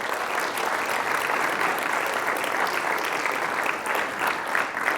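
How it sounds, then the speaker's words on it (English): An audience claps steadily for several seconds, a dense, even burst of applause from a room full of people. "A round of applause for our first volunteer."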